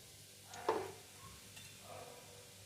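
Semolina is stirred and fried in hot ghee in a pan, giving a faint soft sizzle. A spoon scrapes and taps it in a few brief strokes, with no talking.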